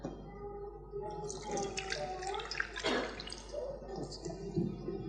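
Water poured during a Christmas puja in London, a trickling, splashing pour that runs for several seconds at close range, with a faint murmur of voices in the room.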